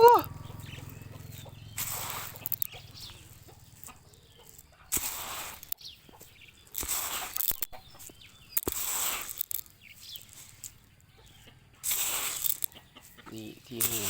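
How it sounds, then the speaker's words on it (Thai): Free-range backyard chickens at feeding time: scattered clucks and rustling come in short, irregular bursts separated by quiet gaps, close by. "นี่ที่ให้อาหารไก่"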